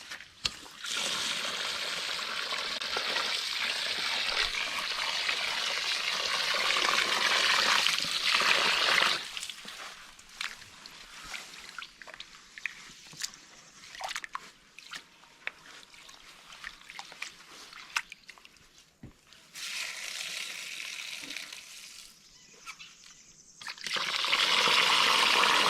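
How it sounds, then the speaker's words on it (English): Rice washed in water for a home-cooked Jamaican family meal, with loud sloshing and pouring water at first, then quieter trickles, swishes and light splashes, and a final strong pour near the end. "I gotta get the rice wash now"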